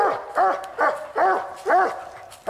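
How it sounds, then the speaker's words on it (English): Bluetick coonhounds on a coon hunt give four loud, evenly spaced baying barks close by, each a drawn-out howling bawl, with no talk in between. "Dog's doing good."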